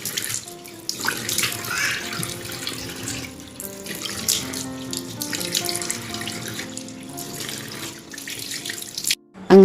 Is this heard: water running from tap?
yes